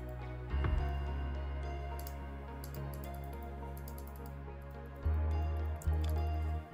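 Water drips in the flooded wells of the video game Flooded, soft isolated ticks and plinks scattered over a steady low ambient hum, with a few louder thumps near the start and toward the end.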